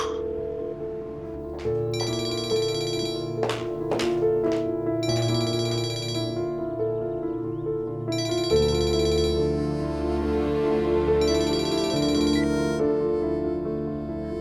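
A phone ringtone plays a repeating melodic pattern in bursts with short gaps, loud and close, continuing for several rings with no talking.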